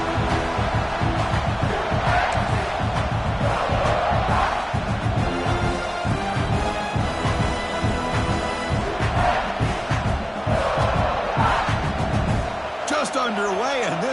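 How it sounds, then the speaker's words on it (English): A home crowd at a college football game roars continuously and loudly, with a commentator talking over the dense cheering throughout. "this home crowd is fired up and ready to make a difference today"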